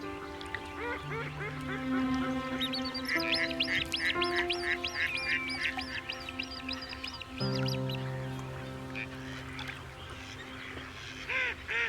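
Ducks of several species at a wetland breeding habitat shared with grebes, quacking and honking in dense overlapping calls, loud and close, continuing through the whole stretch with no talk.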